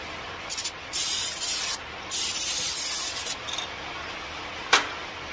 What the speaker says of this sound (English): Spray this rotor off real quick.